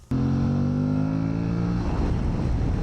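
An Aprilia Tuareg Rally motorcycle on the road starts up abruptly and holds a loud, steady engine drone close by, the tone roughening into a rumbling, gritty roar toward the end.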